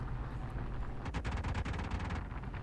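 Aircraft guns in the game War Thunder Mobile fire one rapid burst of closely spaced shots partway through, set over a steady low engine-like drone.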